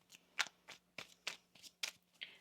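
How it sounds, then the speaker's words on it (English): Tarot cards being shuffled by hand, a quick series of about eight crisp riffling bursts in an even rhythm, close and fairly quiet, with no speech. "One more shuffle."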